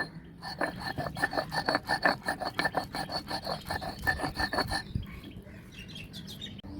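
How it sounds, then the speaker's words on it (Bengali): Cooked rice is ground into a paste on a stone grinding slab for a hair remedy, giving a quick series of rhythmic, rasping scrapes that run steadily for several seconds and then stop. "ভাতটা আমি সিলভাটাতে বেটে নেবো তো দেখো ভাতটা আমি পেস্ট করে নিচ্ছি"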